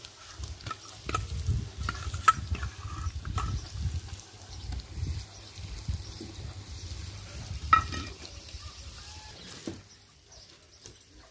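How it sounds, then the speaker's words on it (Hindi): Garlic and spices fry with onions and chillies in a tempering for a gatte ki sabji, giving a low, steady sizzle with scattered clinks and stirring scrapes close by. There is no talk. "प्याज और मिर्ची थोड़े से फ्राई हो गए और अब इसके अंदर ये लहसुन और मसाले डाल रही हूँ।"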